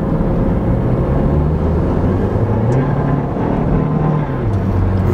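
An Acura RDX with over ten years and 150,000 miles runs while driving, its engine drone steady and loud with a low, slightly uneven pulsing hum that suggests a skip, heard alone without talk.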